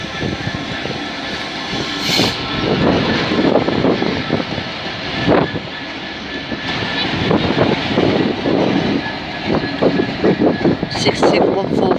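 A class 156 diesel train rumbles through Doncaster station with a steady engine drone and some brief louder surges, while people talk over it.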